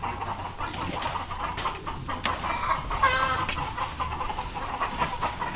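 Chickens cluck close by in a rural yard in Batangas, repeated clucks and calls over a steady background hiss, with no talking.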